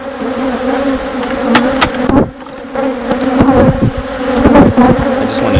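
Honeybees buzz loudly and close around an open beehive, a steady droning hum with individual bees passing near and fading throughout, with no talk.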